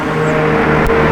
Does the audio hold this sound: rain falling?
no